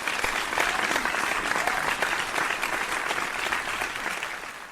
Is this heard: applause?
yes